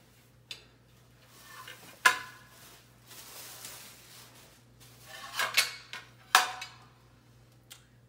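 All-Clad D3 stainless steel pans, 10-inch and 12-inch, being handled, with several sharp metallic clanks and knocks spread across the clip between quieter rustling, close and fairly loud.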